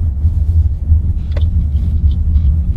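A car driving along as it pulls up to a courthouse, with a steady low engine and road rumble that stays loud and close throughout.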